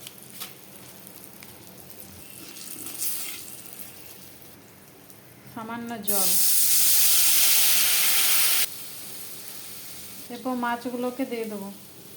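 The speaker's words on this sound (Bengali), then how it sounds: "প্রথমে তেলে কালো জিরে দিয়ে দেবো তারপরে চেরা কাঁচা লঙ্কা তেলের মধ্যে হলুদ গুঁড়ো শুকনো লঙ্কার গুঁড়ো" Nigella seeds, slit green chillies, turmeric and chilli powder frying in oil for a mustard-paste hilsa curry give a low background sizzle, then a sudden loud, steady hiss for about two and a half seconds, with brief speech before and after.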